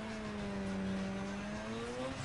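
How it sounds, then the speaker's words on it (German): A tuned car engine in Need for Speed Underground 2 hums steadily at a low, sustained pitch, with its tone rising gradually as the revs climb, heard alone and without talk. "Wir hören uns nochmal ganz kurz den Sound an, denn der ist mir gerade nochmal so irgendwie aufgefallen von dem Wagen"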